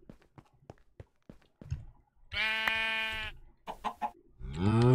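Chickens and a rooster in the video game Minecraft Sky Factory 3: soft scattered clucks and clicks, then a loud drawn-out bleating call, a few more clucks and another strong rising cry close up.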